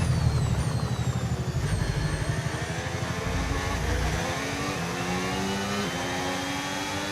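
Racing car engine in a racing video game, running hot at the Austrian circuit, droning and revving with shifting pitch as it accelerates and eases off, loud and continuous.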